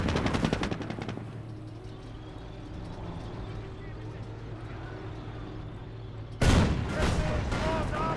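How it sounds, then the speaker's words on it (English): Rapid machine-gun fire and gunshots in a Company of Heroes battle, a loud rattling burst at the start, a quieter stretch of rumbling, then another sharp volley, under a commentator's talk. "British artillery being brought on in"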